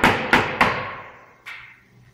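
A cross-peen hammer strikes a mandrel to fold over the 8 mm edge of metal roofing sheet: three quick ringing metallic blows, a pause, then a fourth, each leaving a fading ring.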